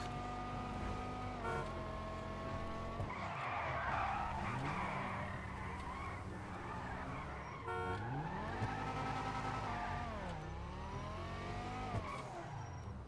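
Car skidding with tires squealing in the video game GTA 5: long wavering squeals that bend up and down in pitch over a constant engine roar, fairly faint overall, with no talk.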